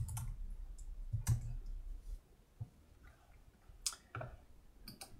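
Computer keyboard keys tapped while typing in the PyCharm editor, a few sparse, quiet clicks spaced out over the stretch, close by and with no voice.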